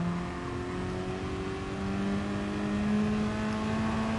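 Steady engine drone of a car lapping a track in the racing video game GT Sport, a sustained whine slowly rising in pitch, even and unbroken.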